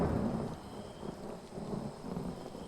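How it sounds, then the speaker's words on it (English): Low rumbling thunder rolls with a steady wash of rain during a coastal storm in The Elder Scrolls Online, a continuous, moderately loud roar with no talk. "I can help calm the storm that hugs the coast."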